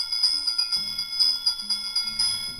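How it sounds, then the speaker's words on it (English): A small bell in the Haunted Mansion séance rings in a rapid series of bright, high metallic strikes, close and clear over faint low background tones. "give us a hint by ringing a"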